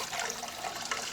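Cold tap water runs in a soft, steady stream over cast iron cookware being scrubbed with a brush or scouring pad. It stays quiet and continuous, with no voices.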